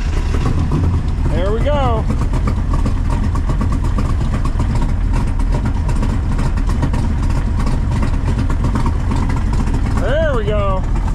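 A flooded engine runs at a rough, steady idle, close and loud throughout, with a voice speaking briefly near the end.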